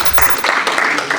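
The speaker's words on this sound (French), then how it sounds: "On peut applaudir." Brief burst of applause for a karting Grand Prix qualifier heading to the final, a crowd clapping close and loud for just over a second with some voices mixed in.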